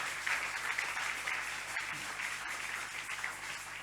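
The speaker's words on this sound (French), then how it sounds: "On applaudit la parole de Dieu." A church congregation applauds during a deliverance sermon, a continuous rustling wash of many clapping hands at moderate level with a faint low hum beneath and no voice over it.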